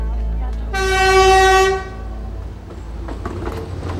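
Train horn at Thakramsay Station on the Death Railway in Thailand, a loud sustained tonal blast lasting about a second, then fading into the low rumble and clatter of the train rolling past.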